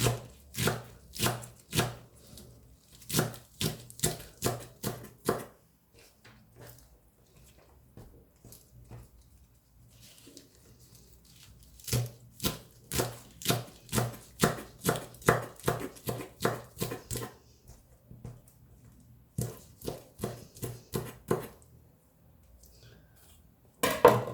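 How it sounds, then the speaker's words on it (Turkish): Fast, steady knife chopping of spinach on a cutting board, long runs of crisp rhythmic taps separated by short pauses. "Ve doğramaya devam edeceğim."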